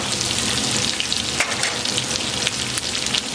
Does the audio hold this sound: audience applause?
no